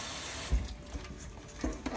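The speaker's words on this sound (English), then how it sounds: "I begin by just swishing it around in some cold water and get just the basic" Lettuce is swished around in a basin of cold water, a continuous close watery churn with soft sloshes and small splashes rising and falling, no voices.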